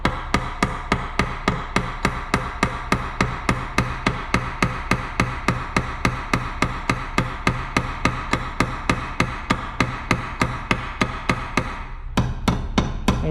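Rapid, evenly spaced hammer taps strike a timing chain part on a Skoda Rapid 1.2 engine, dozens of sharp metallic blows in steady rhythm, briefly pausing near the end before resuming with a changed, duller tone.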